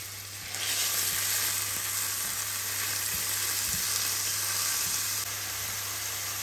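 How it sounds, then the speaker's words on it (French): Two chopped red onions and three garlic cloves sauté in a pan, putting out a continuous, even sizzle at moderate level, with a low steady hum underneath. "on va faire revenir donc notre oignon haché avec 3 gousses d'ail"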